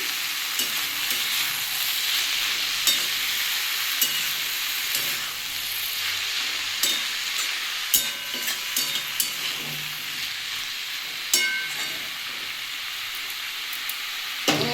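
Radish greens and potatoes fry in a pan with turmeric, giving a steady close sizzle and hiss broken by scattered pops and occasional stirring scrapes, with no talking.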